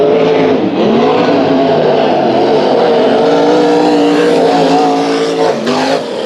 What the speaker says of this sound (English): Race Saver Sprint Car.